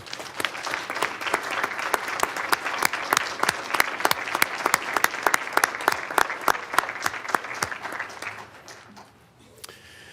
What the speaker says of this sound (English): How about we give them a big round of applause, guys?